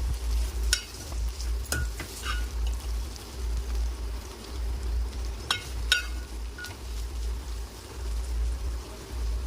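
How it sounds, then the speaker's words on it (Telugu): Broad beans (chikkudu kaya) fry in a pan with a steady low sizzle, broken by a few sharp scraping stirs as a spatula moves them around; no one talks. "మధ్య మధ్యలో కలుపుకుంటూ చిక్కుడుకాయ అంతా ఫ్రై చేసుకుందాం"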